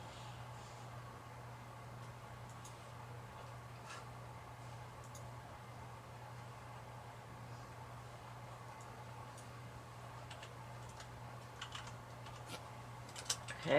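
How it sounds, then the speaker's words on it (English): Keys on a small handheld calculator are tapped in quick, light, irregular clicks, close by over a steady low hum, with no talking. "So let's put that in my little calculator."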